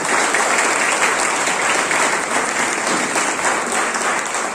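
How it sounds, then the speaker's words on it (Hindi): An indoor audience applauds achievers at a national touring event, a loud sustained burst of dense clapping throughout. "तो वो जितने अचीवर हैं उनके लिए जोरदार फिर से तालियां।"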